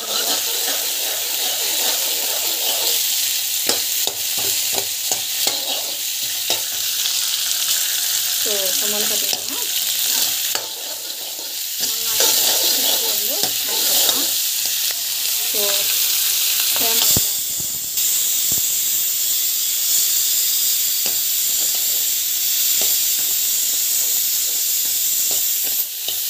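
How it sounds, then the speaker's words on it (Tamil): Onions, chillies and garlic sizzle steadily in hot oil for a mango coconut chutney, with a continuous frying hiss broken by occasional stirring scrapes and clatters, and no talking. "ஆயில் வந்து போட்டுருக்கு, வெங்காயம், மிளகாய், ஆனியன், பூண்டு, வெங்காயம் எல்லாத்தையும் வந்து ஆட் பண்ணிடலாம்"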